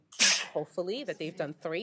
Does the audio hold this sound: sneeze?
yes